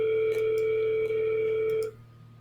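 An outgoing call placed from CRM software rings back as a steady electronic tone, one sustained ring lasting nearly two seconds before cutting off to a low background hum.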